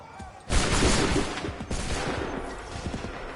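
A musket volley crashes out in Assassin's Creed 3, a dense burst of many shots fired almost together, then a second ragged volley with scattered reports that echo on afterward.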